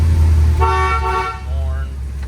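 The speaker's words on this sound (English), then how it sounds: "horn" Horn of a 1973 International 1210 4x4 truck, a short two-second toot over a low idling engine rumble, with a voice talking nearby.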